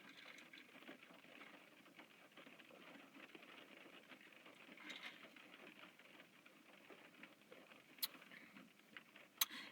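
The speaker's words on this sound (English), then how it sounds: "Oh, it just started raining." Rain that has just begun falling outdoors makes a steady, soft patter throughout, fairly faint, with a couple of sharper drips near the end and no voices.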